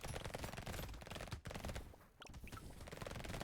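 Turrets in the Brotato video game fire a fast, continuous stream of shots with one brief pause, quiet and steady, with small pings scattered through the barrage.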